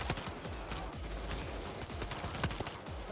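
Rapid pistol gunfire in a first-person shooter video game, a dense run of sharp overlapping shots at steady volume with no talk.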